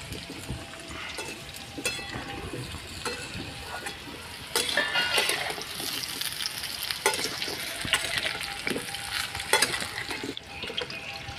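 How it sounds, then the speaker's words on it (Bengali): Taro and potatoes frying in oil in a pan, a steady close sizzle with repeated clinks and scrapes of stirring, growing louder partway through, with a faint running-water sound and no talking. "কচুটা একটু ভাজা ভাজা হয়ে গেছে, এবারে আলুগুলো কাটা আছে দিয়ে দেবো"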